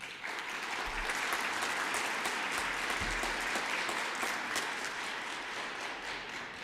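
Steady audience applause from a crowd following a talk at a medical discussion event, dense clapping sustained evenly throughout without pause.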